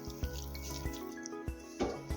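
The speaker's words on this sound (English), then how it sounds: "And then you're going to add your 1 1/3 cup of your sparkling water" Sparkling water poured from a measuring cup into a bowl of vegan Krusteaz Belgian waffle batter with applesauce, a steady liquid splash with a few brief bumps, close and moderately quiet, no talking.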